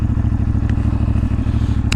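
An IBEX 450 motorcycle idles with a steady, throbbing exhaust pulse, close and loud with a fast even rhythm and no talk.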